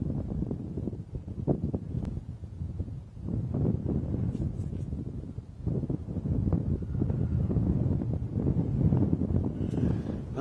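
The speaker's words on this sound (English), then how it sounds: "This gusting wind." Gusting wind buffets an outdoor microphone on a sunrise safari drive, a continuous low rumbling roar that surges and dips with each gust, close and fairly loud, with no speech.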